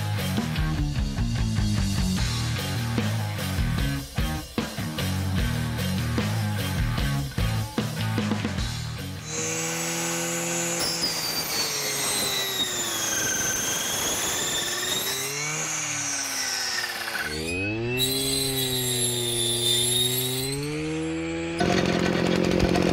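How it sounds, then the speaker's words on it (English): ECHO brush cutter cutting thick stringy weeds, a loud continuous two-stroke engine whine that rises and falls in pitch as the blade bites into growth, running alone without speech. "So brush cutter works really good on things like this."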